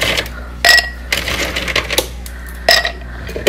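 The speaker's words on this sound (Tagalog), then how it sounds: "Kailangan natin ng yelo. Lalagay ko doon sa baso." Ice cubes drop into a glass in a series of bright, sharp clinks and rattles, several clusters of hard tinkling hits close by with short gaps between them.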